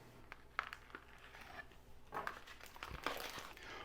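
A plastic package of seasoned air-dried Wagyu beef being opened, with faint, close crinkling and rustling that comes in short bursts and thickens toward the end.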